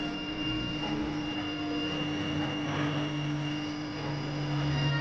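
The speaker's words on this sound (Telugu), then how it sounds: "1 పెట్టి ఫంక్షన్ నెట్ నొక్కి రన్ నొక్కితే మనకు మోటార్ నుంచి ట్యూన్ అయినట్టు సౌండ్ వస్తుంది." An electric motor driven by a Fuji mini drive runs its auto-tuning cycle with a steady, even whine and hum, sustained at moderate level with no talk.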